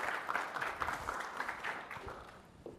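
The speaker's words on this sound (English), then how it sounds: "Round of applause." Sustained audience applause at a tech conference session fills the space, a dense patter of many hands clapping steadily without pause.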